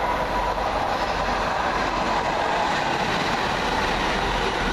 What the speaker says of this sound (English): Ah, here comes my train.